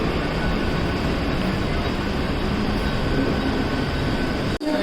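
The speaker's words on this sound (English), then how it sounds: "This is my train leaving" A Mumbai train pulls out of the station at night, a loud, dense, steady rumble and rattle of rail cars close by that fills the whole stretch, with one brief dropout near the end.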